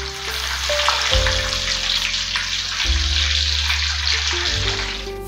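Buffalo chicken balls crackle and sizzle in hot oil, a loud, dense, continuous frying hiss close up, with a few clinks from cookware underneath.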